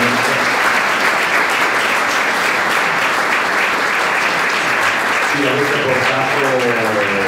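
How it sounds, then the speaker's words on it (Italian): Warm, steady round of audience applause at a conference, dense clapping from a sizable crowd filling the hall, with voices beginning to talk over it toward the end. "padre, diciamo, Natale con un bel applauso."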